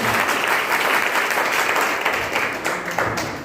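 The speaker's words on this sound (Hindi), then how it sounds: "जोरदार तालियां बजा दीजिए।" Loud audience applause at a gathering, dense clapping from many people that holds steady and thins slightly toward the end.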